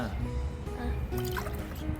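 Coconut water poured from a container into a cooking pot to brew coffee, a steady liquid trickle and splash running under ongoing talk and exclamations close by.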